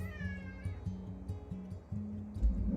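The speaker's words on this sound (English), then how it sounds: "Doesn't meow like a normal cat for some reason." A studio cat with an unusual voice gives a run of short, odd, buzzy meows, about four in a steady rhythm, close and fairly quiet, ending in a brief rustle.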